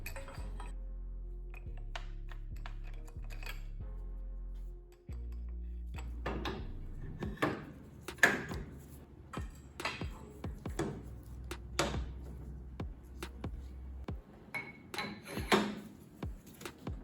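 A cheap tube bender pushing 3/4 inch tubing through a 3/4 inch die on a test bend: a steady low mechanical hum at first, then irregular sharp metallic clanks and knocks that grow denser, close and fairly loud.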